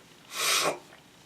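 A single short, breathy nasal sniff or snort from someone with a cold, close and fairly soft, with no talking.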